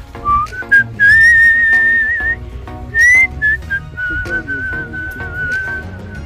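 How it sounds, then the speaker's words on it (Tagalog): Someone whistles a clear, bright melody in short phrases and held notes, close and fairly loud, with no talking. "tapos sipol-sipol ka lang."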